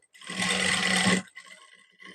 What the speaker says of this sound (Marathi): मी प्रेस शिलाई करते आता इथे.